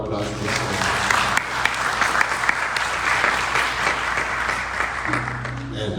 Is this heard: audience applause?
yes